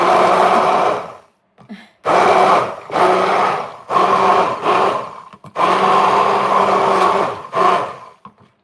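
A blender whirring through homegrown strawberries and mixed fruit in short pulses: loud, steady motor bursts of a second or so, separated by brief pauses, with no talk over them.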